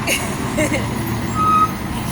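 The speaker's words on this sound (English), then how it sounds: "It's a garbage truck." A garbage truck passes close by on a street, its engine rumble steady and loud, with a brief tonal beep partway through and a voice speaking over it.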